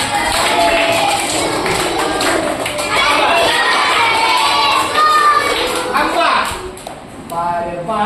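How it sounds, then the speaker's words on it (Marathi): Children at a school birthday celebration clap together, a busy mix of claps and young voices calling out and chattering, with some singing-like shouts near the end. "सर्वांनी टाळ्या सुरुवात करा"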